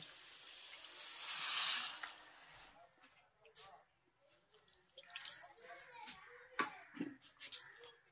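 About one and a half cups of water are poured into a pan of simmering tomato spice masala for a green-pea dish. A short, hissing splash rises and fades, followed by quiet drips and stirring while someone talks.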